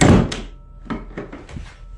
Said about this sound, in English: I could then hear the door smacking